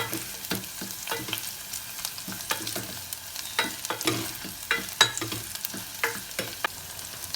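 Green chilies and onions sauté together in a pan for a spicy tomato soup, with a soft frying hiss broken by repeated sharp spatula scrapes and taps in an uneven rhythm, close up.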